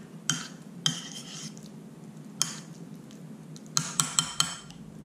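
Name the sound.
stirring homemade guacamole with tomato slices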